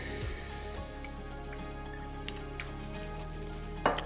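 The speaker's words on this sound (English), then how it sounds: "And let's cook off our sausage." Sausage frying in oil in a pan on the stove, a steady soft sizzle with faint crackles and pops running throughout, no voices.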